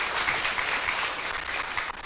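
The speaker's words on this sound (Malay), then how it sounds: "Mari kita berikan tepukan sambutan bergemuruh kepada Datuk Seri" A crowd at a political rally claps to welcome a speaker. The applause is dense and steady, with no voices, for the whole short stretch.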